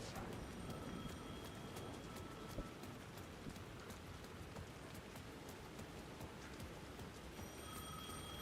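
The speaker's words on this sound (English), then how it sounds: "The phone was ringing again." A telephone rings in the video game Alan Wake 2, its thin repeating tones faint beneath a steady wash of heavy rain, with no one speaking.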